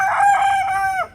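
A young rooster in a backyard coop gives one close, loud crow, a strained, slightly wobbly cock-a-doodle-doo lasting about a second before it breaks off.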